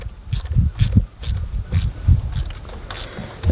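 A screw-type hose clamp is tightened onto a hose on a Series 1 Rover P6 Estate, giving a run of close, quiet ratcheting clicks in an irregular rhythm.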